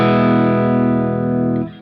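A thick, distorted electric guitar chord from a BluGuitar Amp1, preamp volume turned up and master down, rings out loudly and sustains, then cuts off near the end.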